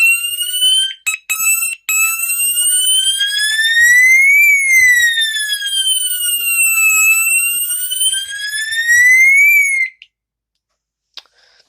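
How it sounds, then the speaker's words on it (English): A wall-mounted fire alarm horn strobe running on 9-volt batteries sounds a loud, steady electronic tone that sweeps slowly up and down for about nine seconds after a few short bursts, then stops abruptly. "it's just a fire alarm, like a horn strobe that would mount on your wall"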